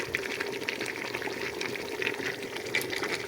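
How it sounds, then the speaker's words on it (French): Hot water poured close up into a pot of stewing vegetables for Oran-style berkoukes: a continuous splashing, bubbling stream with no talk. "Là, on va rajouter l'eau chaude. jusqu'à hauteur."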